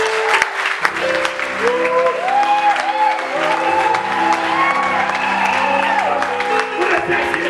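A church congregation claps and cheers in praise during a worship service, steady applause filling the room over sustained musical tones and voices throughout.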